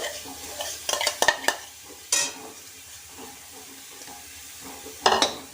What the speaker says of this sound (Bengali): এইবার আমি দিয়ে দিচ্ছি এই যে পেঁপে গ্রেট করাটা।